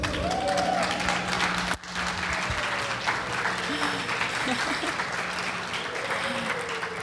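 Audience applause for actors at a church gathering, a continuous wash of many hands clapping with a few scattered voices and whoops mixed in, holding steady throughout.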